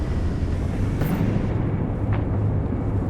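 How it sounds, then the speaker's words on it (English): Mortar explosions in a war shooter game, a dense, loud roar of blasts and rumbling debris that fills the whole moment, with a sharp crack near the start and another burst about two seconds later. "Those mortars."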